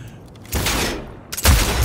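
Loud sniper rifle gunfire in the video game Cyberpunk 2077, two heavy blasts a second apart, each with a booming, rolling tail.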